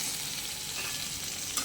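Coriander leaves for a raw mango chutney sizzle in a hot pan, a dense close frying hiss with a faint stir near the end.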